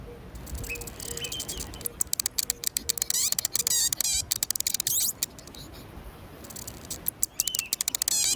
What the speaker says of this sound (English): solar modulated and not necessarily solar powered, or not just solar powered, but solar modulated little modules, little sonic critters